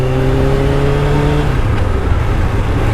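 A Suzuki Katana motorcycle engine drones and revs close up, its pitch holding and then dropping as the rider shifts up into third gear, loud and continuous with no talking.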